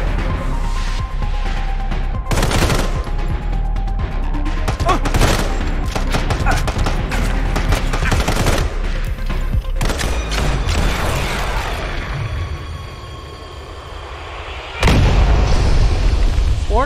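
Gunfire and explosions from the mobile shooter Sniper Fury, a loud, dense stretch of shots, bursts and booms over constant game noise, with a heavy blast near the end.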